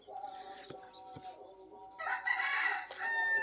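A rooster crows loudly, a long drawn-out call, with softer hen clucks and farmyard chatter around it and no talk, at a poultry unit of an agricultural science centre in Kawardha.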